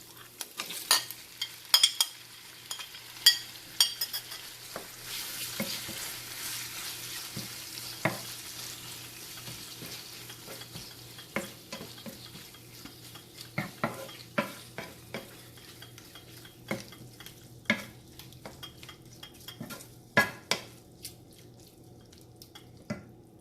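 Venison meat fries quietly in a pan under a soft continuous sizzle, punctuated by repeated sharp scrapes and taps as it is stirred at irregular intervals, close but fairly faint.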